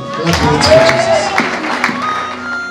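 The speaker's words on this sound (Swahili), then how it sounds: "Pigia Bwana makofi" Church congregation clapping hands in praise during a worship service, a dense, loud spatter of applause mixed with voices and raised sound.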